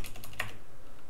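A few quick keystrokes on a computer keyboard, typing a short word into a Minecraft ComputerCraft console, close and brief, then quiet.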